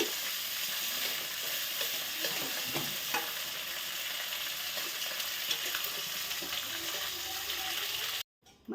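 Fish fries in a pan with a bright, continuous sizzle and crackle held at close range, then it cuts off abruptly near the end.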